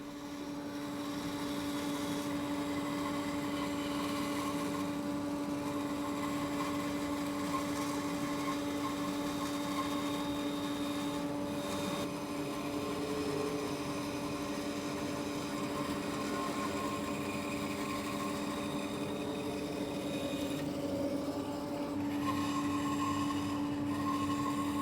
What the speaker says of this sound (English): Now it's time to head over to the bandsaw and cut the neck shape from this blank.